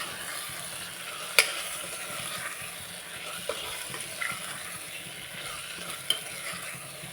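Masala stirred into baby jackfruit biryani makes soft, quiet scraping strokes in a pot with a faint low sizzle and a few sharp clinks of the spoon, close but subdued.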